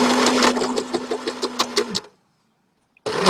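A sewing machine stitches squares of tie dye fabric into a shopping bag in a fast, steady run of needle clatter, stopping abruptly for about a second of silence before starting again.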